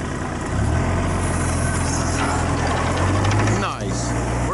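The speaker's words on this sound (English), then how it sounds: "Switching to the 2-foot auger." Powered two-foot earth auger drilling holes for a solar installation, a loud rumbling engine that revs up and holds under load, with a brief dip near the end.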